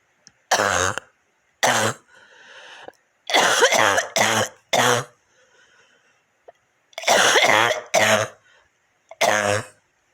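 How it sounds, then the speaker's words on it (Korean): A series of harsh, phlegmy coughs and throat clearings bringing up phlegm, in bursts, some single and some in quick pairs, loud and close with short quiet gaps between. "새벽에 1시간 이상을 이렇게 기침해서 가래를 뱉어내야 되는데"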